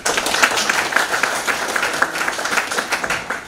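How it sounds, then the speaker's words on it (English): An audience gives a round of applause for a course organizer on the final day of a global health training program, a brisk, fairly even patter of clapping heard alone. "let us have a big round of applause for Dr. Anuj Mobai"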